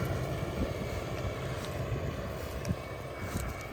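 A Basak tractor pulling an applicator and heavy disc harrow through a field, a steady low engine drone with rumbling soil work, fairly distant and muffled by wind noise.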